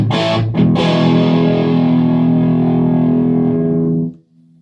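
A Wilson Rose custom Les Paul-style electric guitar through a small Sundown amp plays distorted chords, two quick strikes then a sustained chord ringing out for several seconds before cutting off.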